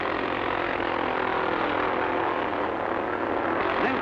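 Speedway motorbikes racing flat out in an old dirt track match race, a dense, loud, continuous engine roar without breaks, somewhat muffled and washed out as on an old film soundtrack.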